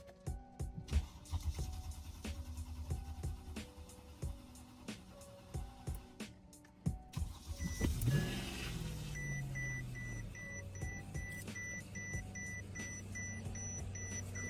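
A Mercedes-Benz W221 engine cranks and catches around the midpoint on its first start, then settles into a steady running hum, with beeping chimes repeating over it.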